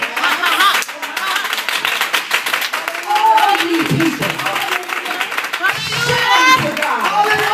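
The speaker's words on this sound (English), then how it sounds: "oh, clap your hands." Congregation clapping hands during a lively tabernacle worship service, loud, rapid clapping from many people close by, mixed with voices and a speaker talking over it.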